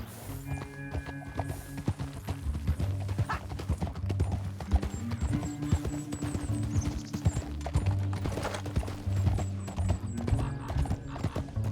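Rapid clip-clop of galloping hooves in Red Dead Redemption 2 runs throughout, with a horse whinnying partway through and steady background music underneath.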